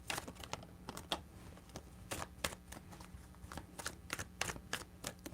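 Soft, quick riffling and tapping of tarot cards being shuffled, a series of short crisp bursts, quiet and close.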